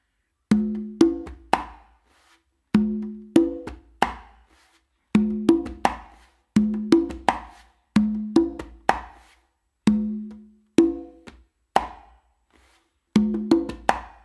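Conga hand drumming in a repeating funk pattern, open tones on the tumba from the dominant hand and sharp slaps in short phrases with brief pauses between, crisp, close and clear with no talking.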